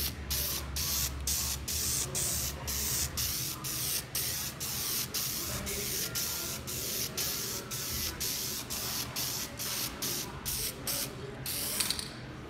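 An aerosol can sprays Nite Shade tint onto car taillights in repeated short hissing bursts, about twenty evenly spaced puffs, close and loud, with a faint clicking rattle between them.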